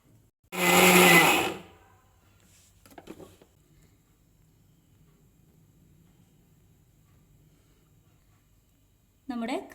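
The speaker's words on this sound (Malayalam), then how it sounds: "ഈ മുകൾ ഭാഗത്തു നിന്ന് എടുത്ത സ്ലൈസ് ജസ്റ്റ് മിക്സിയിലൊന്ന് കറക്കിയെടുത്താൽ നമുക്ക് കേക്ക് ഡെക്കറേറ്റ് ചെയ്യാനുള്ള" A kitchen mixer grinder whirs loudly for about a second and a half, blending slices of red velvet cake into crumbs, then cuts off, and a voice speaks briefly before a second short burst at the end.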